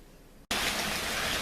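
Steady rain falls outdoors after dark. A quieter stretch gives way to a loud, even hiss of rainfall that continues without let-up, with no voices.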